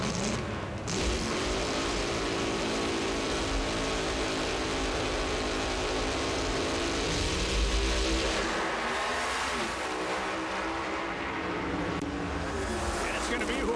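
A Top Alcohol Funny Car drag race run at the Lucas Oil Nationals in Brainerd, a loud sustained engine roar from a distance with shifting pitch, under continuous commentator talk over a public-address sound.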